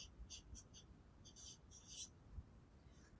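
A pen marking tally strokes on paper, heard as short, faint scratchy bursts in quick succession with quiet pauses, close to the listener.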